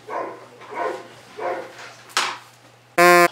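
A dog barks in a run of evenly spaced bursts at moderate distance, followed by a sharp sudden noise and a loud, brief tonal beep at the end.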